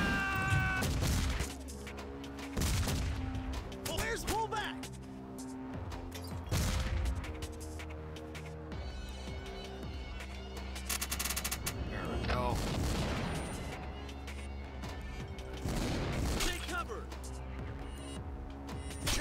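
Bursts of rapid gunfire and crashes from a pinball video game table, repeated in volleys over busy electronic game sounds, with a voice talking throughout.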